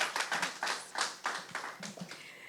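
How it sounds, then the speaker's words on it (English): Audience at a District 4 community meeting claps in a dense, steady burst of applause for about two and a half seconds, fairly close and without voices. "Let's give Amy a round of applause."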